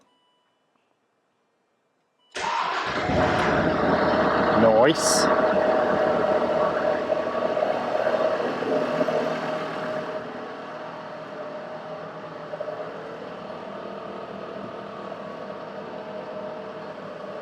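Land Rover Discovery 3 fitted with a swapped TD5 diesel engine cranks after a silent start, fires and revs, then settles into a steady close idle while a voice briefly speaks.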